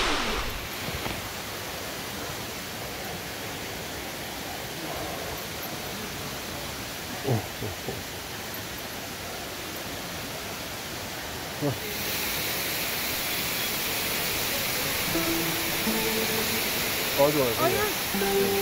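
Waterfall at Amicalola Falls State Park roars as a steady, even rush of falling water, growing noticeably louder partway through, with a few faint bumps and handling noises.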